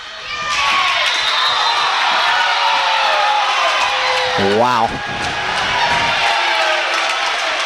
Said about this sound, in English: The crowd comes to its feet